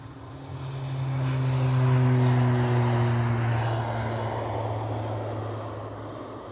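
A plane rolls for takeoff at Edinburgh Airport. A droning engine hum rises and swells with a steady tonal whine, heard from a distance and without talk, then slowly fades.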